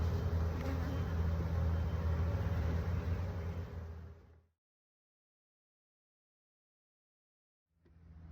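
Honeybees hum in a dense, steady buzz at an opened hive during a split. The buzz fades out and drops to near silence, then returns faintly at the end.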